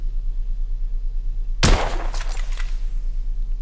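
A single loud gunshot from a scoped rifle in the video game The Order: 1886 cracks out of steady low background hum, followed by a short rattling echo that quickly fades.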